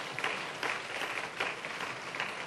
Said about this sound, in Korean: 이런 박수로 한번 환영해 주시기 바랍니다